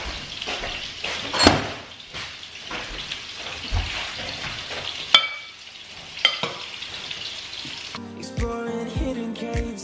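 Hotdogs fry in a pan with a steady close sizzle and crackle, punctuated by a few sharp pops and utensil clinks; near the end, music cuts in over the frying.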